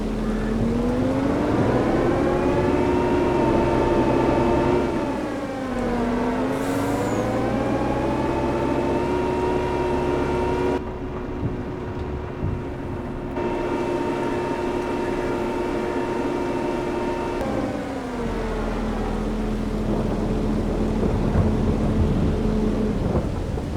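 Hydro Trike engine in Farming Simulator 22 running while driving, a steady droning hum whose pitch dips and rises with throttle changes, with a rumbling low undertone, continuous and alone.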